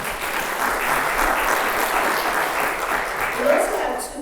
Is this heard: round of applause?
yes